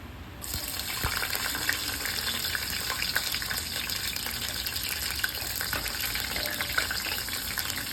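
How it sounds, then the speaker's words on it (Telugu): Chicken curry fries in a pan, browning with green chillies: a steady, loud sizzling hiss with fine crackles throughout, close and uninterrupted. "కొంచెం బ్రౌన్ కలర్కి వచ్చే వరకు వేయించుకోవాలి."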